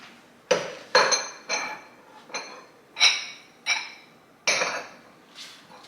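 Salt and pepper containers are set down on a riser in a white kitchen, giving a series of about eight light, close clinks and taps spaced under a second apart, with no talk.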